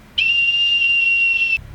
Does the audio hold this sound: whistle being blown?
yes